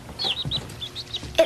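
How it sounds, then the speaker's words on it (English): Baby birds chirp in a nest in a quick series of high, thin peeps, close and fairly loud, with short gaps between calls and a louder squeak at the end. "It sounds like some baby birds."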